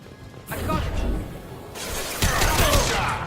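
Gunfire erupts in Mass Effect 2, loud rapid shots with crashing impacts building after a brief quiet start and growing heavier toward the end.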